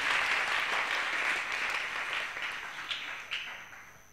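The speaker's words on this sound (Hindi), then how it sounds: "वाह वाह, ताली बजा दो।" An audience breaks into steady applause during a devotional discourse, the clapping dense and sustained, then thinning toward the end with a few louder individual claps.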